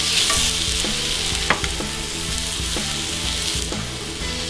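Butter and potatoes sizzle in a frying pan with a steady, loud crackling hiss, punctuated by occasional sharp pops and scraping stirs.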